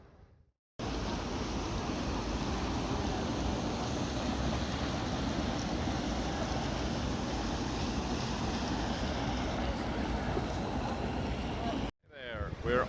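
Steady surf rolls onto a black sand beach near Vila Franca do Campo in the Azores, a continuous broadband wash of waves with wind rumbling against the microphone, cut off abruptly near the end.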